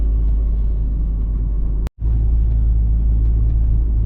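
A fully packed van climbs a very steep road in first gear, its engine a steady, close, heavy rumble with a strong low drone that drops out for a split second before resuming.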